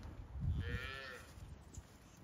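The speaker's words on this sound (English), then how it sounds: "It's nice with these easier cows." A single Highland cow lets out one fairly close, drawn-out moo lasting about a second, followed by quiet outdoor ambience.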